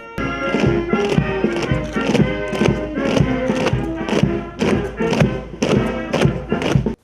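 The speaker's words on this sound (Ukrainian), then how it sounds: "площею урочистим маршем крокує рота почесної варти" An honor guard company marches across a square at a remembrance ceremony with wreaths and an eternal flame, in a steady run of loud, regular footfalls over a band playing behind them.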